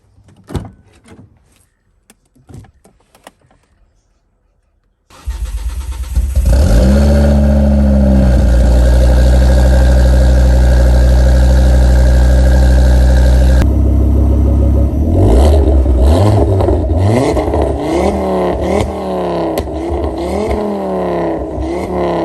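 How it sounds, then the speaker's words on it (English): A Ford Fiesta ST, a stolen and recovered car being rebuilt, starts after a few clunks and door sounds, settles into a loud steady idle, then is revved repeatedly in rising and falling sweeps, close by. "let's get the RS fired up, let it warm up a wee bit, and then we'll give it a few revs"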